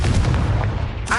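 A Confringo blasting spell explodes in Hogwarts Legacy with a loud, dense, rumbling low boom that stays heavy through the short burst, and a brief brighter crackle follows at the end.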